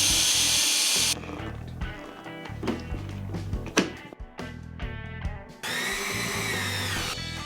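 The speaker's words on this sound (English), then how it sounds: "Now I want to just drill the holes for the screws." A power drill whines loudly, stops, then comes back after a stretch of clattering and knocking as the bit drills screw holes into a wooden panel for a boat's nav station.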